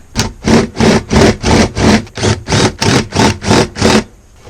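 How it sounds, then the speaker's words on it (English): A drill with a large bit widens a hole in cheap weathered plywood, grinding loudly in about eleven rhythmic back-and-forth bursts of even length before stopping. "now I'm going to use this large bit here and try to just widen the hole."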